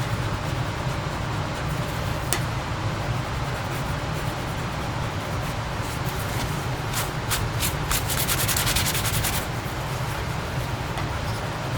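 Scraper working decal adhesive off a truck body gives a continuous rough rubbing and grinding, steady and close for the whole stretch, with a few faint clicks.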